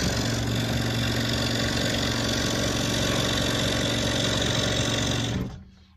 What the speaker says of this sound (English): I'm going to cut into that corner again.